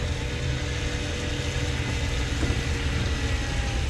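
An old car accelerating inside the cabin, giving a steady broadband engine and road roar with a faint odd mechanical note near the middle, loud and continuous throughout.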